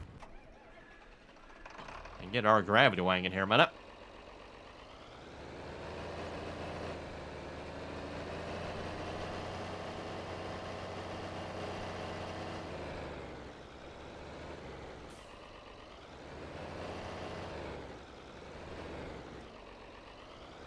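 A John Deere tractor engine in the video game Farming Simulator 22 holds a steady, droning idle for most of the stretch after a brief loud clattering burst near the start, while someone talks over it.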